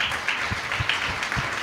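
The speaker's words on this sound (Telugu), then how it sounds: "ఓడిపోయిన వారికి క్లాప్స్ ఇవ్వాలా గట్టిగా." Steady, dense applause from an audience gathered at a church field-training programme in Palakonda, loud and continuous with no voices over it.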